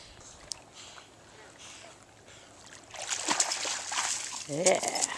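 A dog named Noodle swimming after a big stick, water splashing and sloshing louder in the second half after a quieter outdoor start, with a voice speaking near the end.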